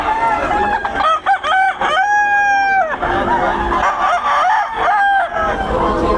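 Gamecocks brought for sale in Pampanga crowing repeatedly with clucking between, loud and close, several long calls overlapping amid background crowd chatter.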